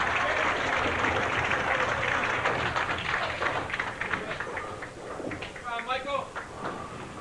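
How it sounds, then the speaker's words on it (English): An enthusiastic crowd at a bowling championship claps in a steady patter of applause, moderately loud and close, while a commentator talks over it throughout. "we've got really an enthusiastic crowd"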